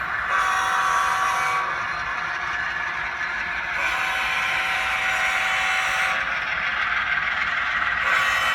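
An HO scale model train, a Norfolk Southern local, rolls steadily along a switching layout, giving a continuous close rumble and rail clatter with no pauses and no talk.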